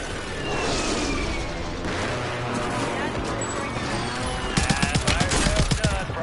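A Call of Duty Warzone airstrike thunders in as a string of rumbling explosions, followed by a tight cluster of sharp blasts near the end, with game voices talking over the barrage.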